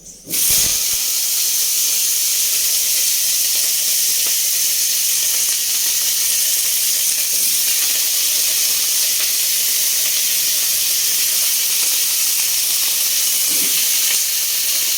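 Cauliflower florets and potato pieces frying in hot oil in a pan, a steady loud sizzle and hiss that starts abruptly and holds evenly throughout with no talking.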